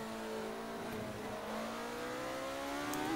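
Revving engine of a TVR Tuscan race car lapping Laguna Seca in a racing game, a steady close drone with rising and falling pitch as it accelerates, brakes and rotates through a corner, with faint tire noise.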